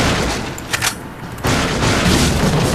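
Gunfire in the survival horror game Resident Evil 4, with a few booming shots and a dense burst of blasts that swell after a brief lull, loud and close against a busy game backdrop.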